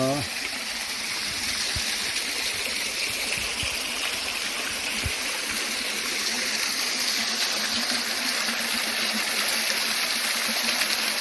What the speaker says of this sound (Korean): 폭포가 볼만합니다.